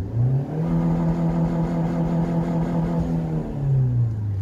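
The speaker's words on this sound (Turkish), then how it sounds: "Mitsubishi Outlander'da launch control bu şekilde çalışıyor." A turbocharged 2.0-litre 4G63T engine in a manual Mitsubishi Outlander holds steady on launch control at about 5000 rpm, a loud, sustained buzzing drone with a slight dip and recovery near the end.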